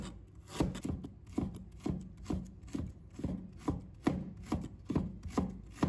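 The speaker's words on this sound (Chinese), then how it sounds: "接下来准备1把小葱，把它切成小段；1块生姜，把它切成丝" A knife chops scallions and ginger on a cutting board, a steady run of crisp, evenly spaced strikes at close range with no voices.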